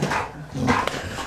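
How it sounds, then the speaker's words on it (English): Puppies barking and yipping indoors, a few short, moderately loud bursts close by with small whimpering sounds between them. "I'm getting attacked by puppies."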